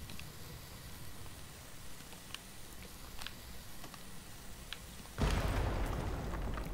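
A dynamite blast in the video game The Cave: a sudden loud broadband boom that cuts in after several seconds of quiet ambient ticks and clicks, then a sustained rumble that fills the rest.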